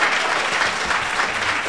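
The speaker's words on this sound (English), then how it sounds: "keep clapping your hands." Audience clapping hands at a Juneteenth event, a dense, steady burst of many hands applauding, close and fairly loud throughout, with no speech on top.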